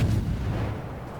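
Naval guns on the Russian destroyer Gremyashchy in World of Warships go off in a single close, heavy boom that decays into a rumbling tail.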